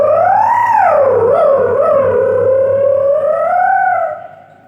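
A voice imitates a drill machine, holding a loud, continuous, buzzing wavering tone that rises and dips in pitch for several seconds before fading out.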